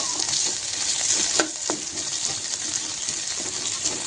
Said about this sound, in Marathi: तुपात छान असा आपल्याला बटाटा फ्राय करून घ्यायचा आहे